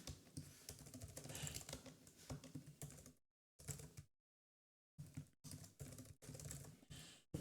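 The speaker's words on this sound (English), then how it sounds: "Oh my god, I can't type and talk." Rapid clicking of keys on a computer keyboard in bursts of quick keystrokes, near and fairly quiet, broken by a short pause of silence before typing resumes.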